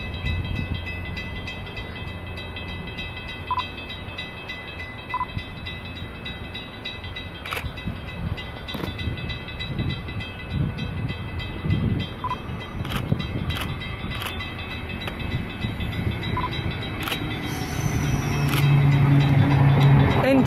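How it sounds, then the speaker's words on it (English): An Endeavour diesel railcar pulls into platform 1 at Douglas Park station on a Campbelltown service, a steady rumble building over about twenty seconds and growing louder near the end, with scattered clicks and rail noise throughout. "We have an Endeavour arriving into platform number 1 for a Campbelltown service."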